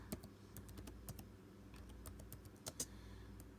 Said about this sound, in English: I'm typing with one hand, I apologize.